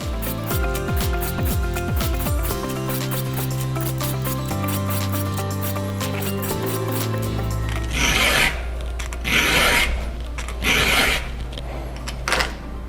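A chainsaw chain's teeth are sharpened with a hand file, heard in the second half as several loud, rasping strokes in an irregular rhythm, with background music in the first half.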